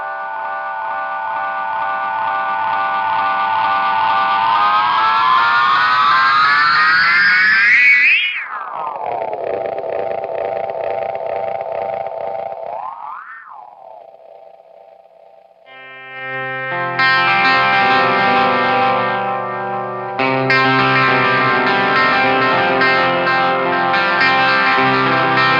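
Delay repeats from an Eastwood Black Box effects pedal set to maximum on a guitar, piling into loud, sweeping pitch-bent swells that warble and degrade, then clear into dense layered echoes.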